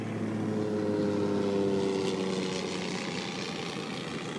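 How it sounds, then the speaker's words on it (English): An airplane flying past outdoors, a broad steady engine roar with a low droning hum that swells slightly and then fades, heard alone. "Just waiting for a plane. That plane just went past."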